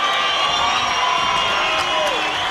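A boxing crowd roars and boos after the 12th and final round of an IBO Intercontinental super middleweight title fight, a dense, steady wall of many voices that continues throughout.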